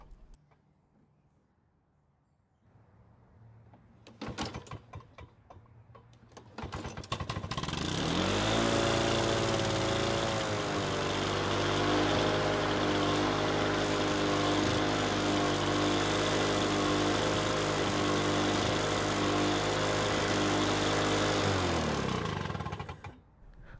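A two-stroke lawn mower engine with a repaired recoil starter: a few quick rope-pull bursts, then the engine catches and runs loudly and steadily at a constant buzzing pitch before cutting off at the end.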